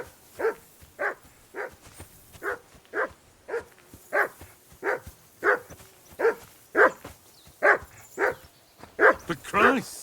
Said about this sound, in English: Call off that damn dog before he wolfs down the last of our meat.